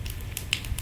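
Cumin seeds tempering in hot oil on the stove: brief, faint crackling pops and a soft sizzle over a low hiss, with no voices.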